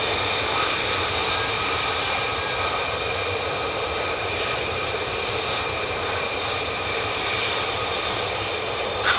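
A stealth fighter jet taxiing at RAF Lakenheath, a loud continuous jet engine roar and whine that holds steady throughout with no voices.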